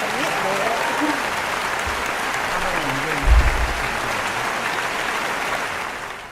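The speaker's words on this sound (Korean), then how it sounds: "여러분 박수 부탁드립니다" Audience applause at an LA Korean community cultural evening, steady clapping from a crowd filling the room, with a voice talking over it and a low thump midway.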